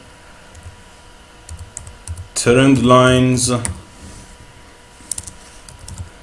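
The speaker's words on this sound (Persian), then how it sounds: "اولین گزینه‌ای که میخواییم تایپ کنیم" Keys tapped on a computer keyboard while entering a trend-line indicator search in trading chart software, a light clatter of keystrokes running beneath someone speaking.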